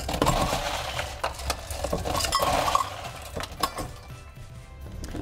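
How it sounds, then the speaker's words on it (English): Ice cubes clatter and clink into a rocks glass at a cocktail bar, a dense run of close, sharp rattles that thin out toward the end. "fill that up with ice."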